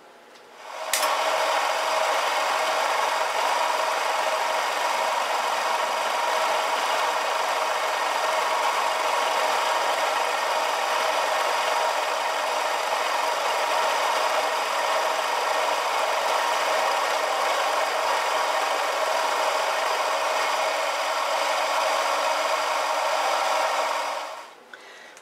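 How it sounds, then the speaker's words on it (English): A milling machine cuts a part clamped on a rotary table, giving a steady, loud whirring hiss that starts abruptly, holds evenly for over twenty seconds, then stops, with no talk. "we can start milling."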